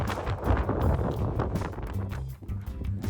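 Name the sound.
wind on Twin Peaks, San Francisco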